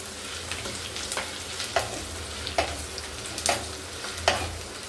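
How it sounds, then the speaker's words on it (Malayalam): Ginger, green chili and garlic are sautéed in a pan for an Aluva-style fish curry, with a soft steady sizzle under a regular rhythm of spoon scrapes and clinks against the pan, close up and without speech. "ഇഞ്ചി, പച്ചമുളക്, വെളുത്തുള്ളി ഇത്ര ഇട്ട് വഴറ്റുക"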